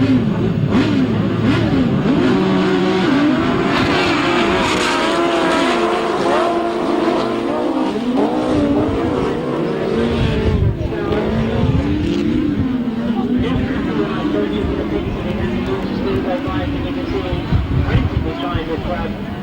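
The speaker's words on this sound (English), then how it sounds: "Ivor Matthews, Grasstrack machine" A grasstrack racing motorcycle, Ivor Matthews' machine, at the 2002 International Battle of Britain Grasstrack meeting, revving loudly with a rising and falling engine note throughout, under continuous commentary.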